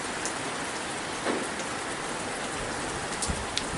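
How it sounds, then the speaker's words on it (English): Heavy rain pours down during a night-time thunderstorm in Cyprus, a dense, steady hiss of drops hitting surfaces close by, with no clear thunder clap. "we've got really heavy rain out here now"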